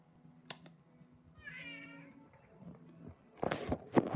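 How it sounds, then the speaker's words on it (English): A cat meows with a rising, drawn-out call, joined by a few softer mews and bumps, then a louder burst of clatter and movement near the end; no one speaks. "So, there's the cat."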